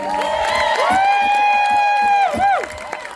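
A crowd at an outdoor Celtic festival cheers and whoops, with one sustained high shout rising above the noise before trailing off.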